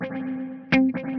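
Guitar played through a Tonex spring reverb set to a brighter color, a short sustained note with a sharp pick attack midway and shimmering, splashy reverb tails, played alone.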